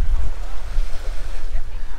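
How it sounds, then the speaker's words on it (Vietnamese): Gentle sea waves wash steadily onto a wide white-sand beach at Skagen on the North Sea, a continuous low surf roar with wind buffeting the microphone. "biển sóng nhẹ nhẹ"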